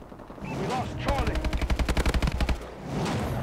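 Automatic gunfire in Call of Duty: Advanced Warfare, a rapid burst of about a dozen evenly spaced loud shots lasting over a second, framed by muffled game ambience before and after.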